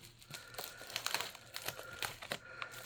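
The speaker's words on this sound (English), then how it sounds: "I'm just going to get into this with some scissors, I think, here." Scissors snipping and crinkling through plastic packaging around a silver coin delivery, a steady run of close crisp crackles and short cutting bursts with no talk.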